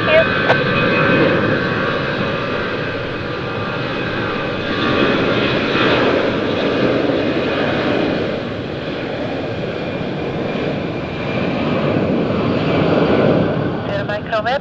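An ITA Airways Airbus A320 taxis and takes off on runway 28, its jet engines roaring loud and steady with a rising swell near the end, heard from nearby with tower radio chatter mixed in.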